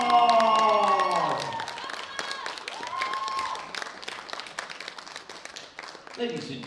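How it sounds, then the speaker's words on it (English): Audience applause for a Kazakh gold medal winner at a sub-junior men's world bench press championship, steady clapping that rises under a voice announcing over a loudspeaker, then tapers slightly. "Give me a big round of applause for Zavlan Shalkatov"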